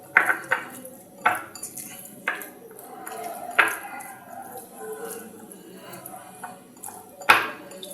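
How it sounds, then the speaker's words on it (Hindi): Crushed roasted peanuts are stirred into a red chilli chutney, giving close, irregular scraping and clinking of a spoon against the bowl with a few sharper knocks and faint background voice. "अब ये मूंगफली इसके अंदर मिक्स करूंगा।"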